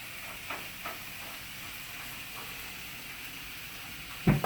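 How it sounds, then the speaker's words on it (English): A steady hiss of onions sizzling in a pan fills the clip, broken by a few soft clatters and a louder knock near the end. "can you hear this sizzle"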